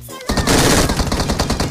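Rapid automatic gunfire in the battle-royale video game PUBG Mobile, a loud continuous burst of closely spaced shots lasting over a second and heard alone.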